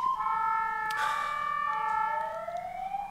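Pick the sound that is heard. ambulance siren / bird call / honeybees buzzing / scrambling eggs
ambulance siren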